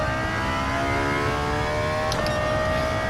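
A 2020 Toyota GR Supra pulls hard down a track's front straight, its engine note climbing steadily and briefly dipping at a shift before rising again, loud and continuous from inside the car.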